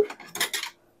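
Metal spatulas and utensils clattering together in a kitchen while cooking corned beef in an Instant Pot, a quick cluster of four or five bright clinks that fade out.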